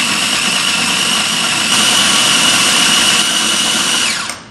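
A food grinder runs at full speed, grinding sambal. It gives a loud, constant high-pitched motor whir for about four seconds, close up, then spins down and stops.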